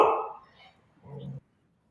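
A dog barks once, short and fairly close, just after a person talks indoors during a conversation.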